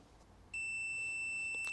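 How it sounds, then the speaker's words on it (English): A multimeter on continuity test gives a steady high-pitched electronic beep that starts abruptly and holds, as a probe is back-probed into a brown and yellow wire at an ECU plug on a fire-damaged Mk1 car. "So that beeping means there is a good solid connection."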